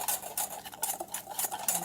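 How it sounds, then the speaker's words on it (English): A spoon stirs a dry rub of ground pepper and paprika in a bowl, giving close, rhythmic scraping and clinking strokes with no one talking. "So I am just gonna stir that up here."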